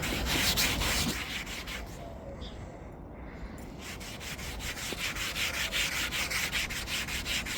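A cotton pad rubs wood stain onto a wooden surface during a bathroom-to-office makeover, making close, continuous scrubbing swishes. A short lull breaks the strokes before they resume in a steady back-and-forth rhythm.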